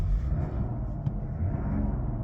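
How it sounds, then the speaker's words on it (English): A steady, low diesel engine rumble from a Mazda CX-60 3.3-litre six-cylinder mild-hybrid diesel throbs continuously, smooth and close, with a slight rise in revs. "you'll hear a throbbing V6 diesel engine sound"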